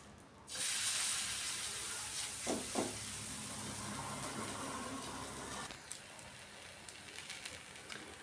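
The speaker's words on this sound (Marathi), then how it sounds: "हाताला थोडंसं पाणी लावून आपलं थालीपीठ यावरती तव्यावरती घालून घ्यायचं" Thalipeeth flatbread made with spring onion greens, pressed onto a hot griddle with a little oil, giving a steady broad sizzle that starts suddenly and continues throughout, with a couple of brief clinks partway through and no talking.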